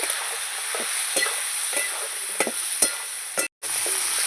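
Mutton being stirred in a pan with turmeric and chili powder, a steady frying hiss broken by several distinct scraping and clinking strokes of the spoon, close and fairly loud, no talking.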